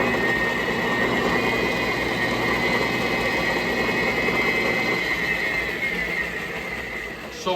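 A repaired Yamaha Banshee carrier bolt spins in a lathe, giving a steady, loud mechanical whir with a rattling hum that holds even and then eases slightly near the end.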